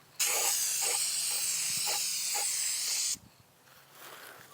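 A spray paint can fitted with a glitter-heavy applicator lets out one continuous loud hiss lasting about three seconds, then cuts off sharply, leaving quiet room noise.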